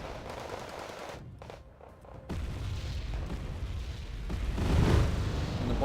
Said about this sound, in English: Bombing run from the S-24M